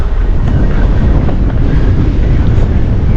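Strong wind buffets across reeds on the open Nebraska plains, a loud, constant roaring rush with heavy low rumble of gusts hitting the microphone, no voices.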